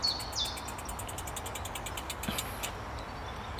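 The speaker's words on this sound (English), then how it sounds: "With the birds, they make it very easy to hear." Birds sing in Wick Woods, with faint repeated high chirps and calls over steady rumbling traffic in the distance, no voices.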